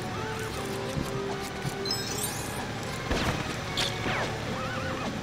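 Horses whinnying and galloping in the Lego Indiana Jones 2 video game, several loud neighs over rapid clip-clopping hooves with occasional crashes and thuds.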